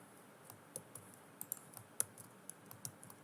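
Computer keyboard keys clicked for Ctrl C and Ctrl V shortcuts, a string of about a dozen sharp, close taps at uneven intervals over a quiet room, with no talking.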